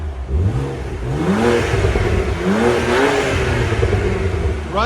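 A BMW Z4 with a 3.0L inline-six engine and stock exhaust revs loudly and nearby, its pitch rising and falling through several sweeps over a continuous rumbling drone.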